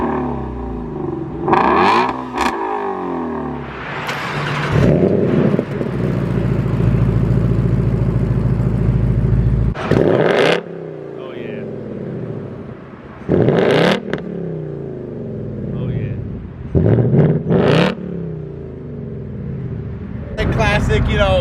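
The V8 engine of a 2021 Ford Mustang Mach 1 on stock exhaust idles with a rumble and is revved hard several times in sharp bursts, close and loud, while people talk over it.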